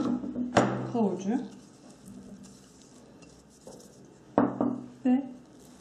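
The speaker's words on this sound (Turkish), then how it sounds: "Şöyle fazla örselemeden alt üst ediyoruz." Pickles, carrot and peas are turned over gently in a bowl for a pasta salad with labneh, giving a few soft scraping stirs and clinks of utensil against the dish, with someone talking over it.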